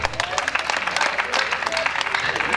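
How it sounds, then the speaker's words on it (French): Lively clapping from a crowd at a comedy performance during a fashion show, rapid and continuous across the short stretch with some voices mixed in. "applaudissez pour vous-même"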